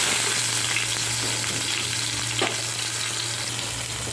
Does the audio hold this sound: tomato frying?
yes